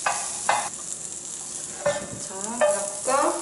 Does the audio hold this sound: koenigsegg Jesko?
no